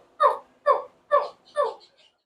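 A person vocally imitates the call of a baby alligator summoning its mother, giving four short, nasal, grunting chirps in a steady rhythm, close and alone.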